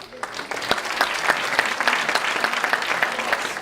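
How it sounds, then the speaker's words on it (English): A small group claps at the 2019 GSA Make a Difference Award ceremony, irregular individual claps rising into a moderate round of applause, heard close by in a room. "round of applause for you, faculty, staff, and students that all attended"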